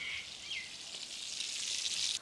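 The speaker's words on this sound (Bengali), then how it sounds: "মাছগুলো উল্টেই ফেলছি। এই সাইড আবার ভাজা হইলে তারপর উঠে" Turmeric-and-salt-coated hilsa fish fries in a pan of hot oil, giving a short, steady, close-up sizzle with a bright hiss and light crackles, with no talking.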